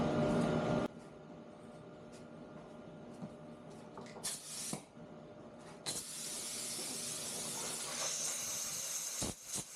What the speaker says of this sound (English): then we'll just take it to the airline and shoot a little bit of air through it